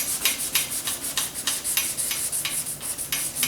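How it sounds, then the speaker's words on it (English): Rhythmic back-and-forth sanding strokes rasp against filler on a Ford Flex bumper cover, close and steady at roughly three strokes per second. "I can't get too greedy on the sanding here"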